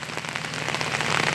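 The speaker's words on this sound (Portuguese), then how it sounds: "Chovendo forte, ó." Heavy rain pours down beside the São Francisco river while waiting for a ferry crossing, a dense, steady hiss of drops drumming on surfaces, close and loud with no voices.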